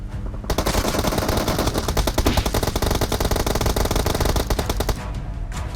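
Rapid automatic gunfire in PUBG Mobile rattles in a long, loud burst of closely spaced shots, running for several seconds before cutting off, with no talk over it.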